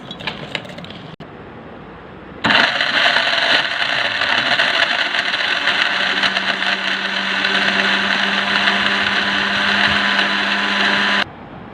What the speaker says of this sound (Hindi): इसे हम ब्लेंड करेंगे 2 से 3 मिनट के लिए।